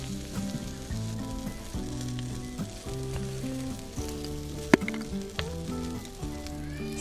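Hairtail fish sizzles and crackles on a grill at a rainy campsite at Moon Beach campground. Steady, close frying hiss runs throughout, with a sharp pop midway and tonal sounds underneath.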